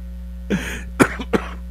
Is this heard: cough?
yes